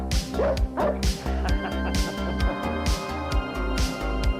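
Dog barks several times, part of a recorded Lipton tea commercial, in short repeated yips over a steady music bed, fairly loud and close.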